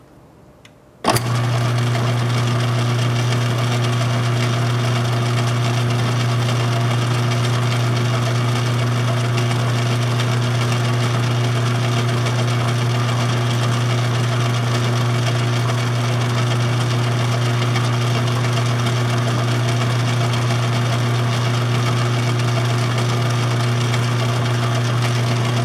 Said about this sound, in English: let's put a little pilot hole in there and continue on